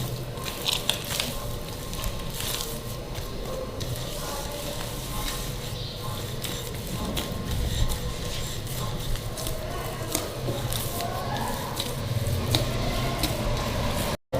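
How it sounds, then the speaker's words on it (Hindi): Samosa dough mixed with a little water is kneaded by hand, making continuous soft squishing and slapping sounds close up, with no pauses. "पानी डाल के थोड़ा डो को गूंदेंगे"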